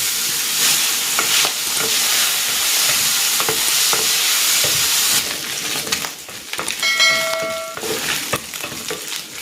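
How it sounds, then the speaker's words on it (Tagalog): Pork frying in a pan as its fat renders out, a loud, continuous close sizzle and hiss with a few clicks and metallic pings, thinning out toward the end, no voices. "I-render ko muna yung fat nito para lumabas yung sariling mantika."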